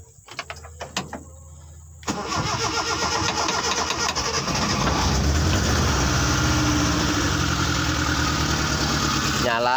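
A car engine started without the ignition key: a few clicks and brief cranking, then the motor catches and settles into a loud, steady close idle that carries to the end.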